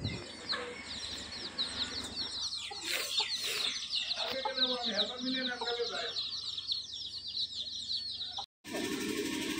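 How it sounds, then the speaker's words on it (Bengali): Hens and small chicks clucking and peeping around a family home, with bursts of close calls and some wing flapping as people talk nearby. "একটু দেখুন মুরগিগুলা অনেক কিন্তু কিউট বাচ্চা"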